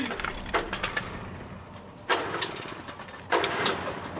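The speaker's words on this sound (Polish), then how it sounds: "Ktoś z piłą." A chainsaw in Alan Wake Remastered revs up in three loud, harsh bursts, fairly close, with a quieter mechanical drone between them.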